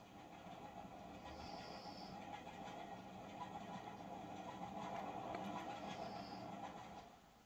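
A steam locomotive train rumbles steadily along the rails on the southbound Settle to Carlisle Railway, a continuous loud rolling drone with a faint hiss of steam above it, fading slightly at the end.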